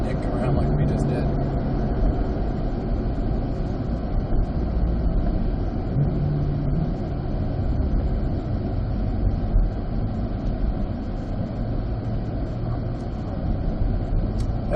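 A car accelerates hard down a straight during parade laps at Road Atlanta, a loud, sustained in-cabin engine drone with faint tonal whine running unbroken throughout.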